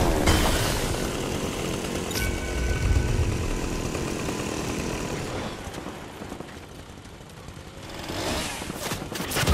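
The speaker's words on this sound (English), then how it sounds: "I get a chainsaw and they don't want to come near me." A chainsaw in a horror video game revs loudly and continuously, with a harsh buzzing drone that surges and eases over several seconds in the foreground.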